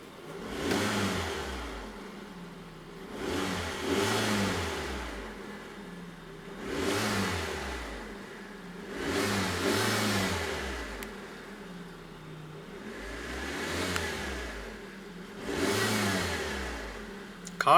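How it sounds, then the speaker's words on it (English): A 2012 Proton Prevé 1.6 CFE engine is revved while parked, about five separate rises and falls with a rev limiter near 3500 RPM, each swelling to a buzzing peak and dropping back to idle, close up and no talking. "so let's go ahead and see how she revs."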